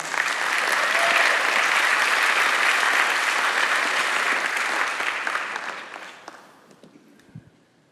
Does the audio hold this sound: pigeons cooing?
no